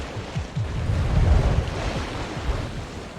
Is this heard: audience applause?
no